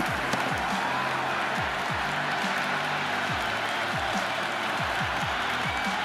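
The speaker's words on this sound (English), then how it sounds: "The crowd is electric right now." Stadium crowd in the cricket video game Cricket 26 applauding steadily after a six, a dense continuous wash of clapping and cheering at even loudness throughout.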